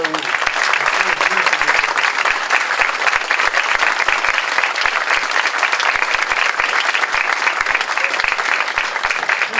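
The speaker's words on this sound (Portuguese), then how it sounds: "Então vou pedir uma salva de palmas para o..." An audience at an academic book launch celebrating a university institute's 50th anniversary gives a round of applause, steady and loud with fast, even clapping that holds for the whole stretch.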